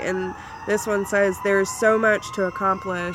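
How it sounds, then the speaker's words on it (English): A steady siren wails in the background while a person talks over it throughout. "I'm sorry about the sirens, y'all."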